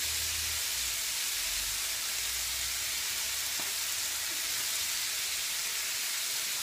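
Tomato paste squeezed into onions and red peppers frying in a pan for French ratatouille, giving a steady, close, fairly loud sizzle and hiss with no talking.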